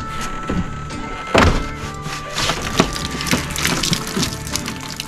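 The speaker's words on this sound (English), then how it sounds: "Now I gotta take the cedar off." Cedar wood panels being pried and pulled off a storm-damaged wall to make room for an air conditioner: a run of close, loud wooden thunks, cracks and splintering knocks over a steady background hum.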